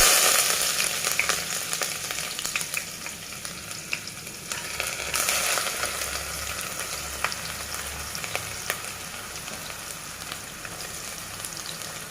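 Groundnut oil heating to smoking in a pressure cooker for mutton curry: a dense, steady crackling hiss that runs unbroken throughout at close range, with no voices.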